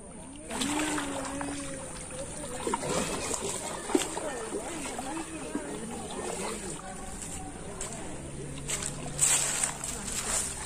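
A kayak is paddled across open water, soft splashes and sloshing strokes running under people talking nearby.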